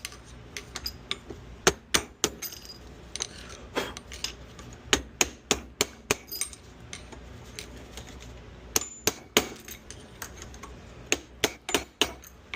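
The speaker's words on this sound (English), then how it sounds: "I'm going to use this old blunt flathead and just go around and tap a little bit on each side." Old blunt flathead screwdriver tapped around a motorcycle fork seal on a Kawasaki KLX140, sharp metallic taps in irregular clusters and short runs, close and clear with no talking.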